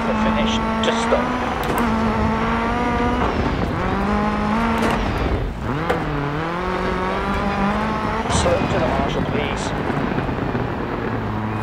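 Rally car in the video game DiRT 4 pounding over a rough, bumpy stage, its engine revving and droning loudly throughout with shifting pitch, while a co-driver's voice calls pace notes over it.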